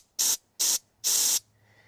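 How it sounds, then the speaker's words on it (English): Three short bursts of a compressed-air spray gun at about 60 psi applying Woolwax rust protection inside a trailer frame, each a loud hissing spray with brief pauses between, followed by a faint hum. "I got the compressor at 60 psi."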